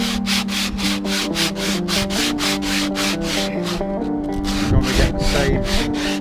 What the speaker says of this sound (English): Same amount of sanding on both sides of the wood.